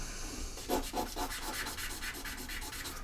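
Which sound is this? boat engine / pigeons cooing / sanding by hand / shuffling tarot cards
sanding by hand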